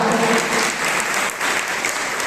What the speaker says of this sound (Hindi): मगर ताली बजाने से नहीं होगा।